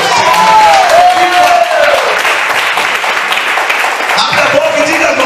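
Loud church congregation applause fills the space, a dense wash of clapping with a sustained tone and some voices mixed in.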